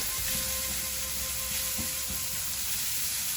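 Masala with ginger and garlic sizzles steadily in a hot pan, a continuous close frying hiss with a few soft stirring scrapes.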